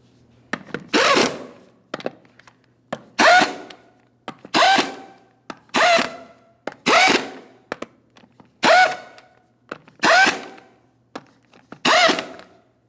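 Power tool, likely an impact driver or drill, snugging lug nuts on the rear wheel of a 2007-2014 GMC Sierra 2500 HD, in about nine evenly spaced short loud bursts with brief gaps between them.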